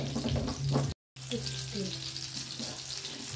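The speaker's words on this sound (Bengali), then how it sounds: "একটু ভালো করে ভাজা হোক, এটা একটা সাইড হয়ে যাক" Steady, close sizzling of small topse fish frying in hot oil, hissing continuously apart from a brief cutout, with a faint voice in the background.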